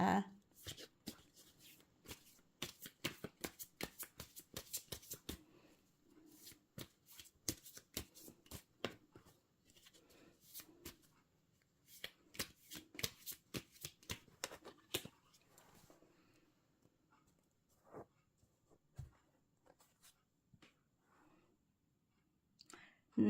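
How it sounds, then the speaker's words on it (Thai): Tarot cards being shuffled and cut, with dense runs of crisp card riffles and flicks in bursts, then sparser taps and clicks toward the end; quiet, close and alone with no talk. "ขอเป็นตัวแทนจับไพ่ตัดไพ่ให้คนเกิดวันอังคารนะคะ"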